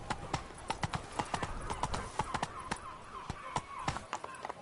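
Hooves of Roach, Geralt's horse in The Witcher Wild Hunt, clip-clop in a steady trotting rhythm at close range, with sharp, evenly spaced strikes and no voices over them.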